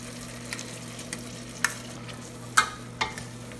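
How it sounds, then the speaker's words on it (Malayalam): Mashed chana dal stirred and fried in ghee for Kerala-style kadala parippu payasam: scattered spoon scrapes against the pan over a faint steady hum, close and fairly quiet. "ഈ നെയ്യിൽ ഈ കടലപ്പരിപ്പ് ഒന്ന് വരട്ടിയെടുക്കണം."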